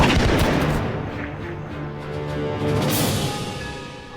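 Dense, rumbling battle noise from old war footage, a continuous roar of gunfire and booms with no clear separate shots, loud throughout with a slight swell near the end.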